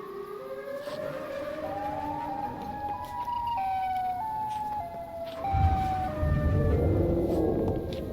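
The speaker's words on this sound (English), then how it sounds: "Siren Head didn't leave, but the sound grew quieter." Wailing siren of the Siren Head creature in a Minecraft horror survival game, a long rising and falling electronic tone sweeping continuously over a rumbling, noisy background that swells louder toward the end.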